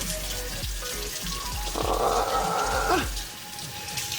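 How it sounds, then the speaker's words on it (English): A gold foil plated playing card, a Queen of Spades, held under a running tap, with water splashing and drumming steadily onto the card and sink, briefly louder and fuller midway before easing off. "So we're going to run one of these cards under some water and see if it's waterproof."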